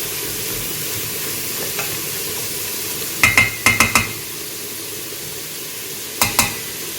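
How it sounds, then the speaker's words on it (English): Onions sauté in a pan for South African bobotie, giving a soft, steady sizzle underneath, broken by a few sharp clinks of a utensil stirring against the pan in short clusters. "I'm going to let that saute a little bit"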